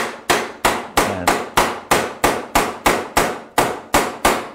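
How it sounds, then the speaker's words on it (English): A rubber hammer whacks snowboard binding parts on a Union 2012 binding setup. About a dozen sharp, evenly spaced knocks sound close up with no talking. "I whack them with a rubber hammer."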